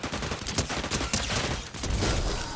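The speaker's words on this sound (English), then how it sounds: "I just kept shooting and shooting and shooting." Fortnite gunfire, a dense and continuous burst of rapid shots crackling loudly throughout with no pause.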